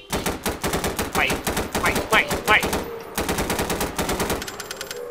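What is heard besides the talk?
gunfire from shooting at monsters in Siren Head video game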